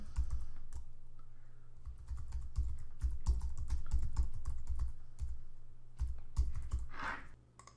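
Fingers type a web address on a computer keyboard, close and crisp, in quick bursts of keystrokes broken by short pauses.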